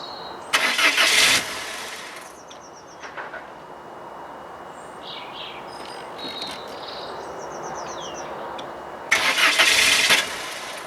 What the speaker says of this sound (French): normalement je dois pouvoir démarrer et la régulation du ralenti doit pouvoir se faire